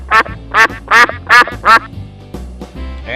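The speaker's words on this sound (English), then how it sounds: "wow, white duck. This is a beautiful duck" A white duck quacks five times in a quick, even series of loud, nasal calls close to the recorder, followed by quieter rustling.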